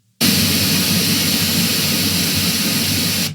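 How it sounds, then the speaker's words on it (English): Pink noise from a test tone generator plays through a studio speaker: a loud, steady broadband hiss that starts abruptly, holds constant for about three seconds, then cuts off, with no talking. "you can hear that pink noise comes through the speaker real good."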